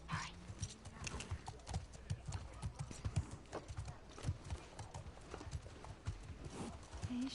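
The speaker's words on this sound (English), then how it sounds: "Dina, my horse is better than yours." Horse hooves clip-clop at a steady walking rhythm in the video game The Last of Us Part 2, close and fairly quiet, with soft ambient background noise.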